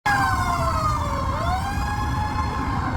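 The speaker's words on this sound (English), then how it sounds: "I didn't even need to add the siren effect because Hongdae already has its own." A wailing street siren sweeps up and down continuously, loud and steady, over low rumbling traffic noise in Hongdae, Seoul.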